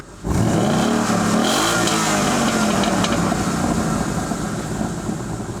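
A loud, close Ford Mustang S550 GT V8 engine roars continuously through its stock exhaust as it revs up and holds, with a deep throaty rumble that rises in pitch.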